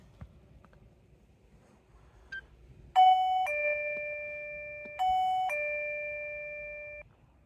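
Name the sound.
motion-triggered perimeter alarm going off at campsite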